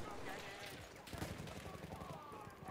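Enemy machine gun fire in Battlefield V: dense, continuous bursts of rattling shots crackling through the whole stretch, moderately loud amid the surrounding battle noise.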